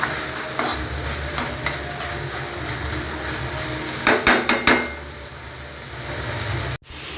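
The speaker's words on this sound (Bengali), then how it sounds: "ঘিটা দিয়ে একটু নাড়াচাড়া করবো।" Leftover-rice sita bhog sweet stirred with ghee in a pan on the stove, with scattered sharp spatula clacks against the pan, a quick burst of knocks midway and a soft sizzle underneath.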